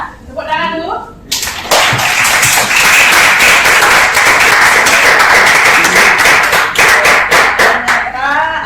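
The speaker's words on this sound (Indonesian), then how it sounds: "Tepuk tangan dulu." A classroom of students bursts into loud, sustained applause that lasts about seven seconds after a brief voice, with many hands clapping densely until it tapers off and someone begins speaking again.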